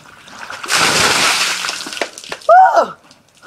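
At an ALS ice bucket challenge, a whole bucket of ice water is dumped over a person in one loud, rushing splash lasting about a second and a half, followed by a sharp vocal yelp.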